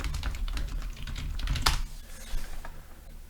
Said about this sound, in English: Stop typing at me.